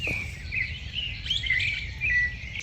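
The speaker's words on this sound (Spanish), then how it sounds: "escuchen todos los pájaros que hay" A chorus of many birds singing at a morning campsite, dense overlapping chirps and trills close by and steady for the whole stretch, over a soft low background hum with no talking.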